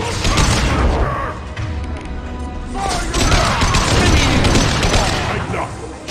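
Gunfire in a Mass Effect 2 battle, dense bursts of rapid shots and booms layered with shouting voices and crashing impacts, loud and continuous throughout.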